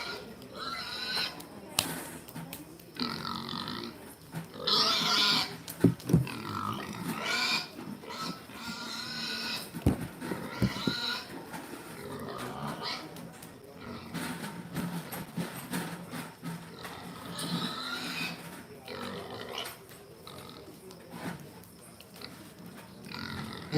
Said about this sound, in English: we've got a pair of gilts out here that are very similar in terms of the way they're put together